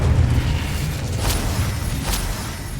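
A fiery Incendio spell blast in Hogwarts Legacy: a dense, rumbling roar that fills the whole stretch, with two sharper bursts flaring partway through, loud and close.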